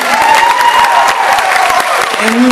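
Loud, close crowd applause for two performers at a small acoustic show, mixed with whoops and a voice speaking over the clapping.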